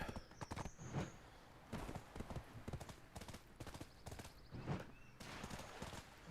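Horse hooves clip-clop in quick, uneven bursts of hard strikes, close and fairly loud, with a few short pauses between runs of steps and no talking over them.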